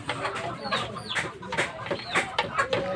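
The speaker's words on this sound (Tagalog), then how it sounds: "Dito tayo ngayon sa aming manukan guys." Chickens clucking inside a coop, a cluster of close, quick overlapping clucks and short calls with a faint voice in the background.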